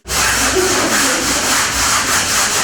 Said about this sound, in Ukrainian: спеціальним шпателем затирає стіни